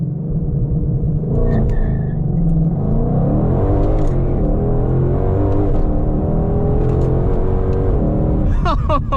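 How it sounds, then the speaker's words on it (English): A Ford Shelby GT500 with a 5.2-liter supercharged V8 launches hard and accelerates, its loud engine note climbing through the gears with a deep rumble and supercharger whine, close and continuous. "let's do a little launch control,"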